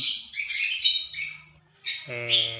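Small African lovebirds chirp and squawk in sharp, high bursts with brief pauses between, close up and fairly loud.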